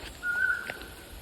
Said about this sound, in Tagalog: Narinig nyo yung huni ng ibon, ayan.